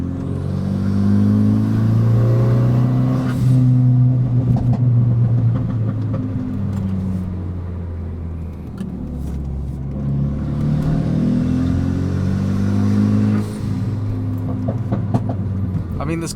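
A Renault Megane RS RB8 engine pulls hard along a canyon road, revving up through rising pitch sweeps, a brief lift near the middle, then a second strong climb, loud and close from inside the car.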